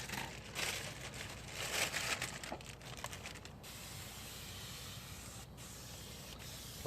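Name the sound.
spray bottle spraying liquid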